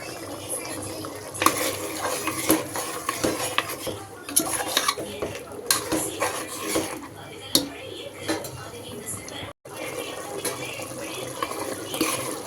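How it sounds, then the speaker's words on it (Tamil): Mutton curry boils in a pot on the stove while a spoon stirs it, with repeated clinks and scrapes of metal against the pot over a soft bubbling background, close and moderately loud. "இப்போ வந்து நல்லா கொதிக்க ஆரம்பிச்சிருச்சு."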